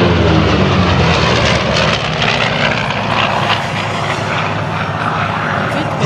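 A P-38 Lightning propeller fighter plane roars loudly and steadily overhead at an air show, a dense continuous engine drone with no break.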